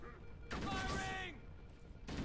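Gunfire from Halo: Combat Evolved erupts as a dense burst of rapid shots under battle noise, loud and close, with characters shouting over it.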